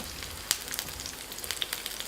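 A Chinese chive pancake frying on an electric griddle gives a soft, steady sizzle with faint crackling pops scattered throughout, heard alone at close range.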